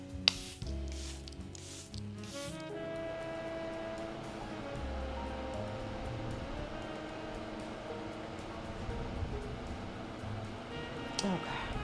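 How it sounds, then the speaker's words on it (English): Charlotte Tilbury Airbrush Flawless Setting Spray misted onto a face in several quick hissing bursts at the start, close and brief, followed by a steady background hum with someone talking. "This is the Airbrush Flawless Setting Spray. Get her sprayed down."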